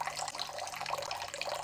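Water for focaccia dough, a mix of cold filtered and boiled water, pours steadily into a bowl at close range, a continuous splashing trickle with no talking.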